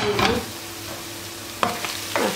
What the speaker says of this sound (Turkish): Şimdi soğan pembeleşene kadar kavuracağım.